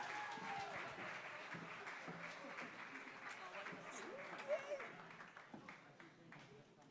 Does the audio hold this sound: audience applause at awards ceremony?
yes